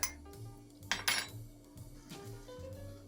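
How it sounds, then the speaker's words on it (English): A few bright clinks of ice dropping into a glass, two sharp bursts close together, over a low steady hum. "Add the old ice cubes."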